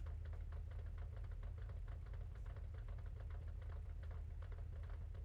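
A car engine in a racing video game, a budget car, drones steadily at close range with a rapid knocking pulse, loud and alone with no talk.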